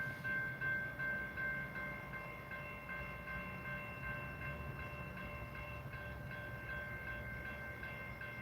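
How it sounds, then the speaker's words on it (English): A train sits at a road crossing, a steady low rumble with a sustained tonal hum and faint mechanical clatter heard from inside a waiting car, continuous and fairly quiet throughout. "Come on, damn train."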